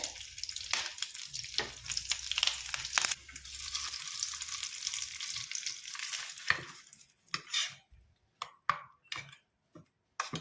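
Curry leaves and spices crackle and sizzle in hot oil, a busy spitting hiss with sharp pops, fading into scattered crackles toward the end; no talking.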